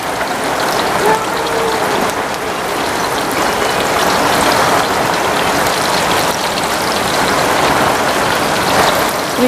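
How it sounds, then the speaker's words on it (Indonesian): Steady rain pours down outside a village kitchen where shallots and garlic are being fried in hot oil, a dense, even hiss that stays loud and unbroken throughout. "Ringsik ya karena hujan nih."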